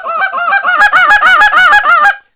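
A hunter works a turkey call to imitate moan clucks: a loud, close run of about a dozen quick, raspy, honking notes in a steady rhythm that stops abruptly, with no talking.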